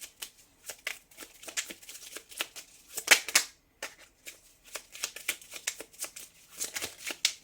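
Oracle cards are shuffled and drawn by hand in quick bursts of papery riffling and flicking, close and soft, with short pauses between flurries.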